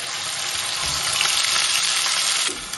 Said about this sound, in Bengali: এবারে পেঁয়াজ বাটাটা দিয়ে দিচ্ছি তেলের মধ্যে